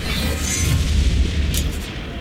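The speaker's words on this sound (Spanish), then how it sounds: "Descarga es la explosión." A Descarga power explosion from the game Saints Row: Gat out of Hell, a loud, sustained low rumbling boom lasting about two seconds with no speech.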